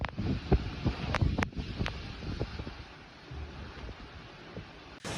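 Strong gusty wind from Cyclone Garance striking Réunion Island, roaring and buffeting the microphone in uneven surges, with sharp bursts early on and a steadier rush afterward, no voices.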